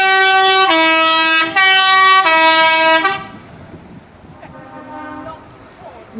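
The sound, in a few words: rigid truck blowing its air horn at a truck parade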